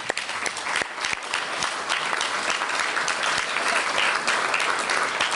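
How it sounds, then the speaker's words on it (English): Audience applauds interns at a NATO Association event, a steady, dense wash of many hands clapping that holds for the whole stretch at moderate loudness, with no talking over it. "just a round of applause to interns generally"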